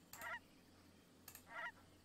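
Goslings in the online game Albion Online give two short nasal honking bursts about a second apart, each with a stacked, buzzy tone over a low steady hum.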